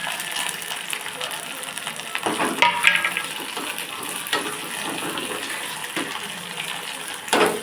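Onions, dried red chillies and curry leaves sautéing in a pan for a tapioca snack, a steady crackling sizzle with occasional louder stirring knocks.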